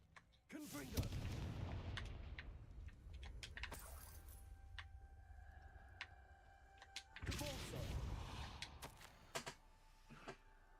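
Confringo blasting spell fired in Hogwarts Legacy inside the dark corridors of Hogwarts, sounding as two loud booming bursts with crackling debris, the first near the start and a second about six seconds later, with ringing tones between.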